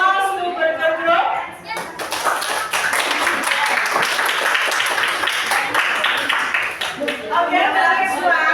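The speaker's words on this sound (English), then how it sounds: "applause to Burger Group" Students in a classroom lesson applaud a group, a burst of close, uneven clapping with some tapping and thumps, framed by speech before and after.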